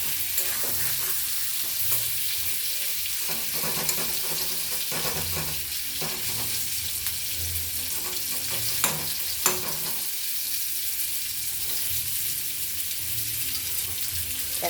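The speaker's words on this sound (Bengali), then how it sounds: "এক পাশ পটলগুলো ভালোভাবে ভাজা হয়ে গেছে, আর এক পাশ ভাজা হতে থাকে।" Pointed gourd (potol) pieces with onion fry in oil in a pan, giving a steady soft sizzle with occasional stirring scrapes and clinks throughout.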